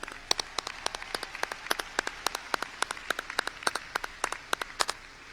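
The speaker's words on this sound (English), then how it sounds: "So please join me in a round of applause for them," Sparse, distinct handclaps at a high school graduation ceremony, individual claps ringing out irregularly at moderate volume over quiet room ambience rather than a full ovation.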